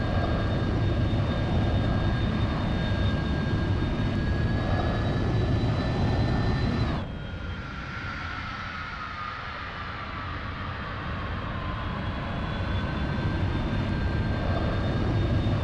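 Airplane engine in a video game roaring steadily at high power, with a whining tone that drops away partway through and then slowly climbs back, no talk over it.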